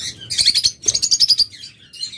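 Pet parrots for sale, a flock of lovebirds, cockatiels and budgerigars, chirp in quick, bright bursts of overlapping tweets with a short pause midway, fairly close and clear with no talking.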